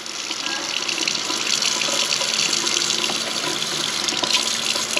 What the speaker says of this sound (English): Let's go check the sink water in the